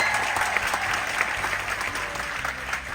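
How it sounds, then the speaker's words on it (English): An audience on a Margaritaville at Sea Islander cruise ship claps for the crew talent show. The applause is loud, dense and continuous from the crowd throughout. "Give the crew a big round of applause."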